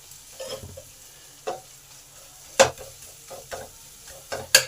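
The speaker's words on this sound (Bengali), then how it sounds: "মশলাটা যাতে ভালোভাবে কষা হয় তার জন্য 1 টেবিল চামচ জল দিয়ে দিলাম" Spice paste with a spoonful of water being fried in oil in a pan, a soft steady sizzle broken by several sharp scrapes and stirs, with no talking.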